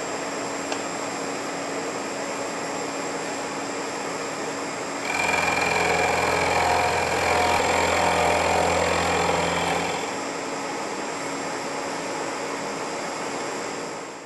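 A milling machine cuts across a metal block, taking a facing pass to clear bandsaw marks. A steady machine drone runs throughout, and a heavier, rougher cutting tone swells for about five seconds mid-clip before easing back to the idle hum.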